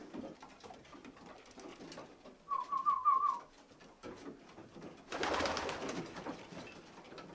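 Pigeons in a racing pigeon loft give a short burst of soft cooing, followed a moment later by a louder rustle like flapping wings, with no talking.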